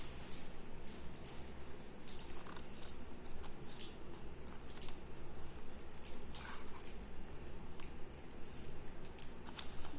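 Scissors cutting paper rose petals for a wall craft, quick repeated soft snips in an uneven rhythm, close and faint, alone without talking.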